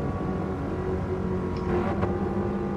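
A Toyota Sports 800 in Gran Turismo Sport drones steadily through a tunnel, its small engine note echoing, with brief rev blips as it downshifts and no talking.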